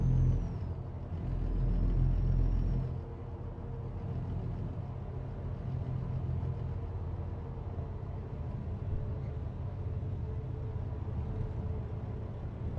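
Heavy truck engine in American Truck Simulator, a Peterbilt 389 with a low, steady rumbling Jake brake drone, loudest for the first few seconds, then settling into a continuous deep idle-like growl.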